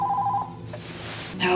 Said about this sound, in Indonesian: Malam hari, Dylan menerima telepon gelap yang menanyakan suaminya Robert